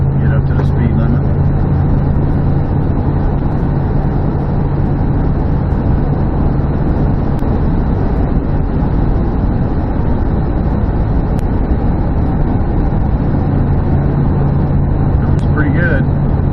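A Dodge Dakota pickup driving on a road after a rack and pinion installation, with a steady loud engine and tire rumble from inside the cab while someone talks over it.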